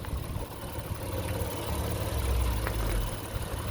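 A 2021 Honda Odyssey Touring with front-wheel drive idles steadily, a low, even engine hum heard close with no talk over it.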